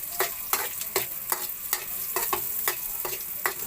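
Ginger being stirred and fried with chicken in a pan: a sizzling hiss broken by about ten sharp spatula scrapes at an uneven, brisk rhythm, close and clear.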